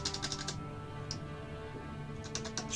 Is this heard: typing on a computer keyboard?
yes